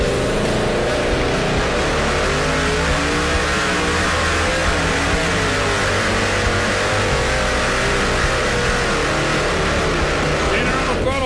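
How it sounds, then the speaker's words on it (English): Two-wheel-drive pulling truck with headers spitting fuel bogs down on the pull at a truck-pulling event, its engine a loud, continuous, dragging roar with crowd-level noise throughout and no clear revving peaks. "as soon as you can hear that kind of drag down, that dreary sound coming from the engine"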